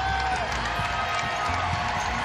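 Standing crowd at a college volleyball match between Baylor and Texas, a steady roar of cheering and clapping filling the arena without pause.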